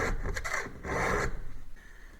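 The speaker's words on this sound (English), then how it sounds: "You can see my filings there from working on the chain, so I know it's cutting pretty good." A file rasps across chainsaw chain cutters in a few quick strokes, close and fairly quiet, with a short pause between bursts of scraping and no talking.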